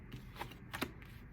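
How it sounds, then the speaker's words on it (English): Tarot cards being shuffled by hand give soft, quick riffling and slapping bursts, faint and close, with a few brief crisp snaps between quieter rustles and no speech. "the way that the cards were shuffling and feeling in my hand"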